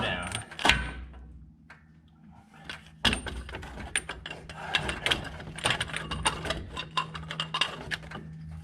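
A socket ratchet tightens a bolt on the harmonic balancer of a 1964 Ford Bronco engine, giving a run of quick, close clicking strokes after a short pause, with some handling clatter.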